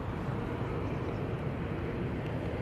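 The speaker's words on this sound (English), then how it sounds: "Jet2, 321 Neo coming on." A Jet2 Airbus A321neo on approach at Manchester Airport, a steady broadband engine roar held at constant loudness throughout, with no talk over it.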